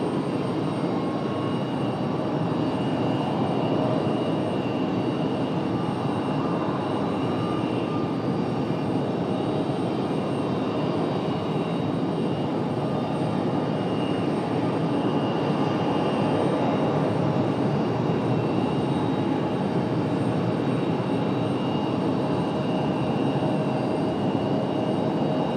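A Boeing 737 MAX 8 takes off from Raleigh-Durham bound for Houston, a sustained loud jet roar with high engine whine holding steady and near for the whole stretch, no voices over it.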